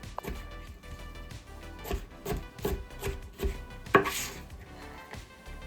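A kitchen knife chops an onion on a cutting board in a steady run of sharp, close taps, with one louder knock near the end.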